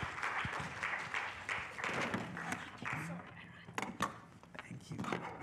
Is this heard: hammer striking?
no